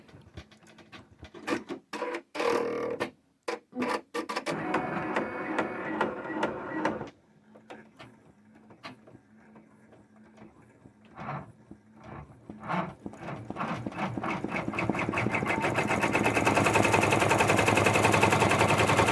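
An embroidery machine stitches a satin stitch around the eyes on a towel hood, rattling in fast, dense bursts with brief pauses before settling into a continuous loud mechanical chatter.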